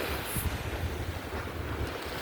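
Ocean waves washing against the shoreline, a steady broadband surf wash blended with low wind rumble on the microphone, continuous and moderately loud with no voices.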